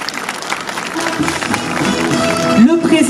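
An audience claps to welcome the board president of the Alliance Française of Armenia onto the stage at its 15th anniversary event, scattered applause rising under a speaker's amplified voice.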